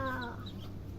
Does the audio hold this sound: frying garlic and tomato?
no